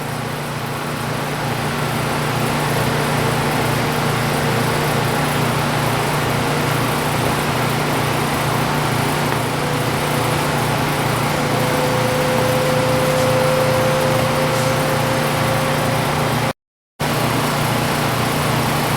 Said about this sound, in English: our turbo has started up. It's coming up to speed.